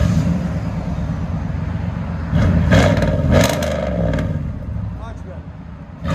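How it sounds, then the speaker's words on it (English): A car engine fitted with a new high-flow catalytic converter revs loudly through its exhaust, rising in a few swelling pulls over a rough idle while people talk nearby. "So we'll let you guys hear it now with the new high flow cat."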